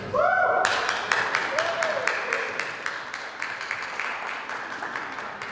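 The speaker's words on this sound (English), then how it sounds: "Thank you for the applause in the front there." Applause from the front rows of a school graduation gathering, a burst of sharp, fairly close claps ringing out after a moment of talk and then thinning into scattered, evenly spaced claps.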